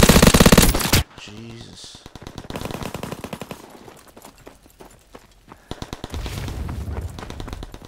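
Rapid automatic gunfire bursts from a World War 2 team deathmatch shooter game, loud at first then in repeated close volleys, while a player briefly speaks over it.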